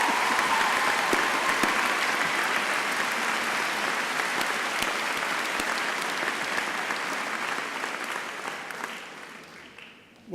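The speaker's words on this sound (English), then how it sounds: "I think Danielle deserves a bigger round of applause than that" Sustained applause from a large audience at a Birmingham City University graduation ceremony, dense steady clapping filling the hall for about ten seconds before fading out near the end.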